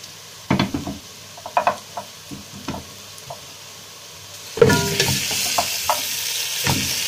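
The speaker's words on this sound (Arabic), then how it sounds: "هنا كده هنحط الكوارع بتاعتنا في البصله بتاعتنا" Goat trotters dropped into a pan of frying onions, with a sudden burst of loud sizzling after a few clattering knocks and utensil scrapes, the frying continuing steadily with stirring clinks close by.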